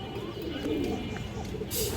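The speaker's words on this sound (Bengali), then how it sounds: "খুব সুন্দর একটা মাদি কবুতর" Pigeons at a pigeon farm coo steadily and close by, a soft continuous murmur of several birds with no talking.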